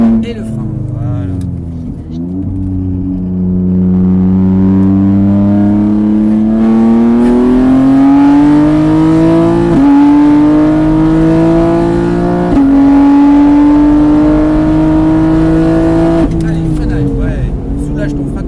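Race car on the Mireval track accelerating hard, its engine note climbing steadily through several gear changes over a long, loud run, with brief shifts where the pitch drops before rising again.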